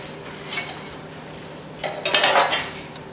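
A cooked artichoke frittata is scooped from the pan onto a serving platter: a light metallic clink, a short pause, then a busier run of utensil scraping and clattering against the dishes, close and unaccompanied by talk.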